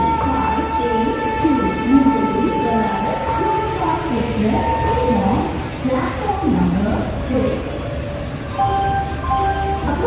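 Banaras Superfast train from New Delhi passing and overtaking a special train, a sustained rumble with wheel squeals and a long horn tone, heard from aboard with voices talking over it.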